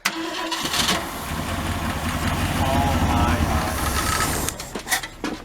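A 1967 Ford Galaxie 500 that had sat for 25 years starts up: a sharp crank catches into a loud, rough, rumbling run that holds for several seconds before stuttering and fading, with voices nearby.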